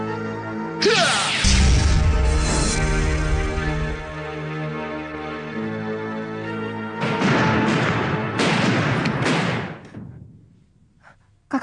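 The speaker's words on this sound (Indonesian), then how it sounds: "Kakang mendengar suara ledakan?" A loud, booming explosion with a long crackling roar that fades, then a second burst of crashing noise trailing off into quiet.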